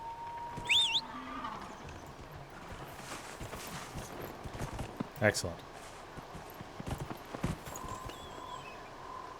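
Horse hooves clip-clop at a walking pace in Dragon Age: Inquisition, soft and steady beneath a faint rainy game ambience, with a voice speaking briefly over it.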